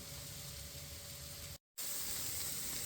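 Eggplant, tomato and onion frying in a pan, a steady close sizzle and hiss that cuts out for a split second and then resumes just as strongly.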